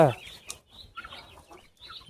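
Guinea fowl and chickens on a farm give short clucks and squawks, close and fairly faint, with a sharp burst at the start and scattered calls under low background noise.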